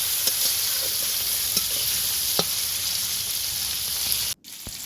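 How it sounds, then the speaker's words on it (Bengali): Salt and turmeric coated prawns fry in hot oil in a wok, a steady close sizzle with a few utensil clicks and scrapes, cutting out briefly near the end before resuming. "কড়াইতে তেল গরম করে তার মধ্যে লবণ হলুদ মাখানো চিংড়ি মাছগুলোকে দিয়ে ভেজে নেব।"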